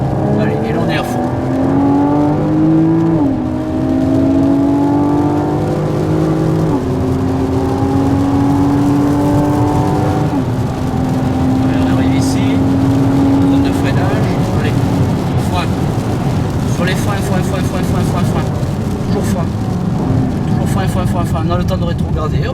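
A Porsche Boxster engine climbs through the revs at full throttle on a race track, loud rising whines stepping up with each gear change, while an instructor speaks over it.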